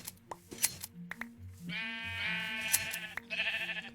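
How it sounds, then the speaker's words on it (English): Sheep in the Minecraft video game bleat several times, short wavering calls repeating one after another over a sparse backdrop of low game tones and small clicks. "Some sheep. Meh. Basically pink sheep."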